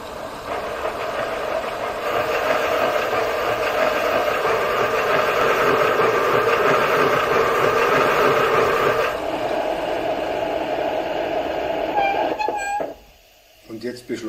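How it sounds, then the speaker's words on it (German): A Spur 1 (1:32) model BR 05 steam locomotive with two-channel sound from KM1 Modellbau plays its accelerating sound, a steady mechanical chuffing and hiss from a small speaker that drops off sharply near the end. "Und jetzt beschleunige ich mal die Lok bis zur höchsten Geschwindigkeit"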